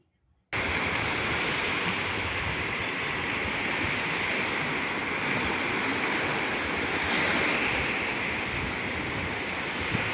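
Strong sea waves surge continuously after a brief silent start, a broad, steady roar of surf that fills the whole stretch, fairly close and unbroken.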